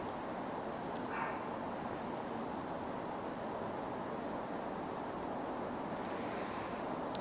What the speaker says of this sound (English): It's just too darn windy though.